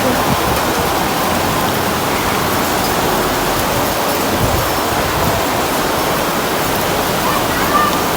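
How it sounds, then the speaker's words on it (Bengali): Heavy rain pours down in Dhaka, making a dense, constant hiss and roar of water that stays loud and unbroken from start to finish. "বৃষ্টিতে জোরে নামতেছে"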